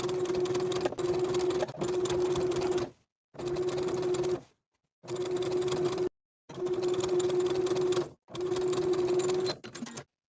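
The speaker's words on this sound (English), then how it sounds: "sew on the lining side with a wide zigzag stitch, catching the elastic as I go as I understitch that entire seam" A sewing machine runs a wide zigzag stitch through swimsuit lining and elastic, working in steady runs of a few seconds with short pauses between them, close and clear with no talk.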